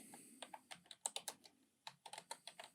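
Quiet, close keystrokes on a computer keyboard, an irregular burst of taps with a short pause midway before typing resumes.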